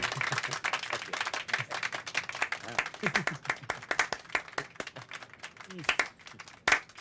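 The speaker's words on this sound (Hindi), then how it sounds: "मिनिस्टर जी के ताली बजाने के अंदाज से लगता है कि वो खुश नहीं है।" A minister claps his hands in a slow, uneven way, a series of sharp separate claps spread through the scene, mixed with speech and background sound.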